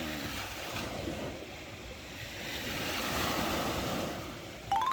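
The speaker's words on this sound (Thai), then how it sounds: "เอาเสียงทะเลมาฝากทุกคนนะครับ" Sea waves wash steadily onto Pattaya beach at night in a continuous broadband roar with some wind, holding a fairly even level throughout and swelling slightly toward the end.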